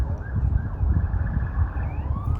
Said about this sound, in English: See, you hear the sirens over there, right?